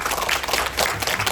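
Audience applause at a Jeju 4.3 seminar, a steady dense wash of many hands clapping that fills the hall for the whole stretch with no talk over it.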